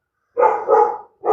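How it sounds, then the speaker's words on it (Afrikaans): Dogs bark outdoors in two quick, fairly loud close barks, with the start of a third cut off at the end and silence in between. "En die honde sê ook môre"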